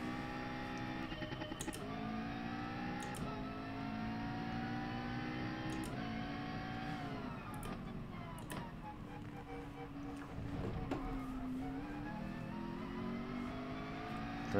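A McLaren race car in Gran Turismo Sport drones with a steady, continuous engine note, rising and falling as it revs and shifts through gears, loud and close throughout, with brief sharp clicks scattered over it.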